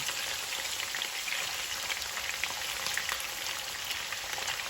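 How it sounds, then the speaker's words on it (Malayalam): Marinated chicken frying in hot oil, a dense, steady crackling sizzle with scattered pops, continuous and fairly close throughout, no voices. "അപ്പോൾ ആദ്യം ചിക്കൻ ഫ്രൈ ചെയ്ത് മാറ്റാം"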